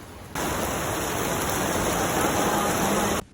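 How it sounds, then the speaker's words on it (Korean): Heavy tropical squall rain pouring down in Singapore, a loud, dense, steady roar of downpour that starts and stops abruptly, with no voices. "곧 말 그대로 폭우가 내리기 시작했다"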